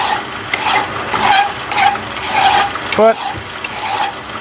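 A metal file rasps back and forth across a motor mount tube for a Corvair FC Rampside in quick, repeated strokes. The scraping is close and fairly loud, and someone briefly speaks over it.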